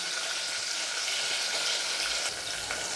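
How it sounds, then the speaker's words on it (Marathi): Tomatoes and coriander fry in hot oil for a mutton biryani, a steady, close broadband sizzle that holds evenly for the whole stretch with slight flickers of bubbling and no talking. "आता हे मस्तपैकी असं जरासं भाजून घेऊया तेलामध्ये"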